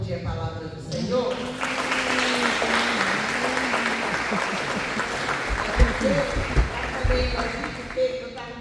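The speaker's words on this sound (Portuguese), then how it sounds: "Você pode aplaudir a palavra do Senhor?" A church congregation at a prayer service breaks into sustained applause, a dense wash of many hands clapping that swells and carries on for several seconds, with voices and an organ-like tone underneath.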